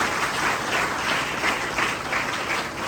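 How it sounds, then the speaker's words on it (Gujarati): A crowd applauds steadily for the full span at a school Guru Purnima celebration, dense overlapping claps forming a continuous roar with slight swells. "તેના માટે જોરદાર તાળી થઈ જાય"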